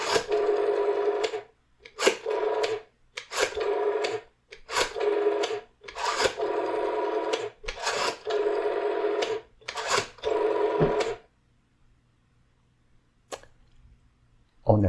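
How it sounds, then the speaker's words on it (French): A telephone dialing a local number, probably a rotary dial: about nine short raspy whirring bursts in an uneven rhythm over eleven seconds, close and fairly loud, then near silence. "Alors, on va composer un numéro local."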